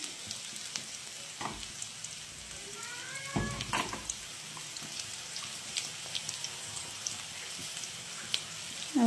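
Chopped onion frying in a pan alongside karkalo (taro leaves) for a Nepali curry, a steady close sizzle with scattered crackles and a few scraping stirs, continuous throughout.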